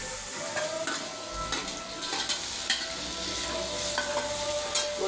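Chopped onions, tomato and green chillies sauté in oil for pasta, with a steady close sizzle and spatula scrapes and taps against the pan at an uneven rhythm, no voices.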